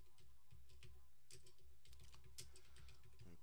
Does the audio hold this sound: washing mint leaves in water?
no